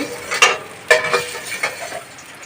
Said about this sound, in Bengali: এবার এটাকে ভেজে নেব। কড়াতে তেল দিয়ে দিয়েছি